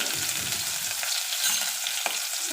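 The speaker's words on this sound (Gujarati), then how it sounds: "લસણની પેસ્ટ, લીમડાના પાન અને 1 મરચાંનો ટુકડો." Garlic paste, curry leaves and a piece of chilli sizzling in hot oil in a pan, a steady close hiss with a few soft stirring scrapes, no voices.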